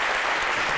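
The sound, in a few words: audience applause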